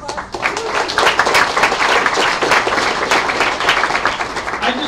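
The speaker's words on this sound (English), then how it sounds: "Round of applause." Audience applause at a hackathon opening talk, a steady, dense wash of clapping that holds for the full stretch at fairly even loudness, with no voices on top.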